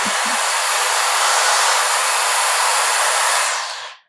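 A Shark FlexStyle AirWarp hair styler blows air in a loud, steady rushing hiss close by, holding level for over three seconds before cutting off and fading out, after a couple of brief clicks at the start.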